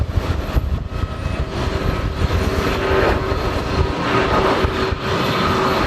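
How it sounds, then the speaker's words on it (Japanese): A Solaseed Air Boeing 737-800 jet at Haneda Airport, bound for Nagasaki, gives off a loud, sustained engine roar with a faint whine mixed into broad rumbling noise, steady throughout with no voices. "こちらは長崎空港へ向かうソラシドエアのボーイング 737-800 です。"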